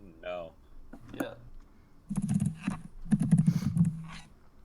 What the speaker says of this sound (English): I hear intense typing